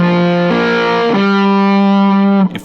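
An electric guitar plays through a Germanium Fuzz Face Mini FFM2 fuzz pedal: three sustained, thick, buzzy distorted notes, each held at a different pitch, loud and alone, cut off abruptly near the end.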